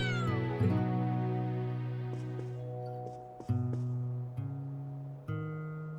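A cat in Trails of Cold Steel 3 meows several times in a row, clear and close, with tonal game music and no voices.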